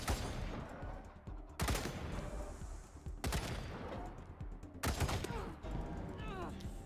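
Gunfire in the Wasteland 3 video game: three or four sharp broadband bursts spaced about a second and a half apart, each over a dense bed of game noise and murmured voices.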